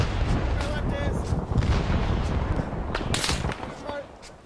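Gunfire and explosions in a Vietnam War survival video game, loud overlapping shots and booming blasts filling the mix, with players' voices mixed in.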